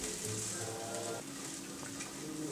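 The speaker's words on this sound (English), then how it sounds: "you should keep stirring until the grains turn translucent" Rice grains fry with spices in a wide shallow pan, a steady soft sizzle with faint scraping of stirring and a low hum in the background.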